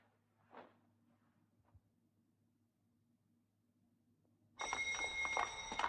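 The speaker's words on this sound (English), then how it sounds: "Bell's ringing." An electric bell in a 1981 Soviet film scene starts abruptly after near silence and a few faint footsteps, then rings loudly and continuously to the end.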